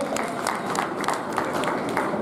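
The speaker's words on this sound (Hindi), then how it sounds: "इनके लिए भी मैं आप सभी से जोरदार तालियों से स्वागत" Audience applause welcoming a guest at a Rajasthan teachers' union education convention in Bundi, a short stretch of steady crowd clapping at moderate level with faint voices underneath.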